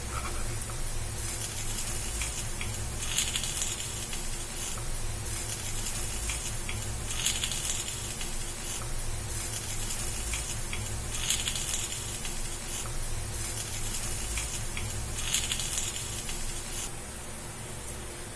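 Green pea kuzhi paniyaram sizzle in a pan just after being flipped, a steady, close hissing and spattering that continues for a long stretch with small crackling pops and no talk.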